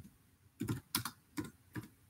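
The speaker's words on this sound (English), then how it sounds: "Sorry, I'm clicking on this other computer beside me." Computer keyboard typing and clicking sounds close by in short clustered bursts, four or five quick groups of key taps separated by brief pauses, quiet and alone.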